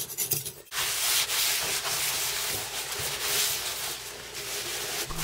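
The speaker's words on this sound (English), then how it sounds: "Clean all this old putty off. Careful not to scratch your sink." Old plumber's putty being scraped off a bathroom sink during a drain replacement: close, continuous scraping and rubbing strokes after a brief clatter at the start, steady and fairly loud throughout.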